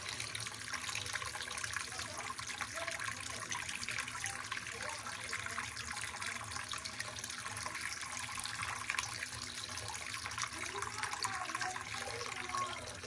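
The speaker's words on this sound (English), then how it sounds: "Let's see about the hot water." Hot water runs from a tap in a home walk-through as a faint, steady hiss of flowing water that continues unbroken with no voices.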